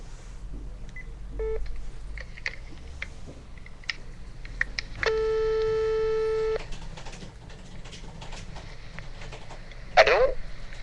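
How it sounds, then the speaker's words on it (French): Telephone line tones ahead of a recorded phone call: a short beep pattern, then a steady multi-tone dial signal lasting over a second, and a brief burst near the end, all over a low background hum. "je vous laisse écouter le contact téléphonique avec Christian Bazano"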